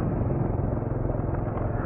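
A Honda Supra motorcycle engine idles steadily with a dense, vibrating low rumble, close and continuous, without talk.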